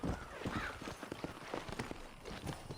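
Horse hooves clip-clop steadily in Red Dead Redemption, a continuous close rhythm of hoofbeats with no talking over them.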